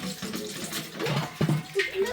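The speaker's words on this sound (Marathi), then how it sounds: "मी असं पाणी सोडल्यात शेतात" Water gushes and splashes steadily close by as it is let into a farm field, briefly joined by a speaking voice.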